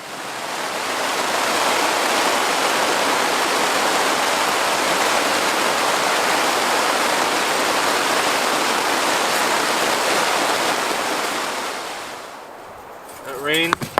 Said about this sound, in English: That rain probably lasted half an hour.